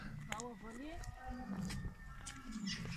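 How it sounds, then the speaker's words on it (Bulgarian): An elephant at a zoo calls with rising, tonal cries over a steady crowd murmur, while people talk nearby throughout. "Това е май Това е слона."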